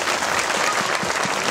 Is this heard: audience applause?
yes